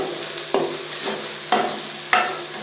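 Onions frying in a pan for a Pakistani fish curry, a steady soft sizzle with three sharp stirring scrapes at regular intervals, close and without talk.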